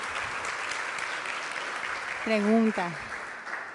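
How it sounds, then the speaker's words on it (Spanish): An audience at a talk on diagnosing common gastrointestinal diseases in the clinic applauds, a steady broadband clapping that runs the whole time at moderate level, with a brief spoken word near the end. "Vamos a darle un aplauso."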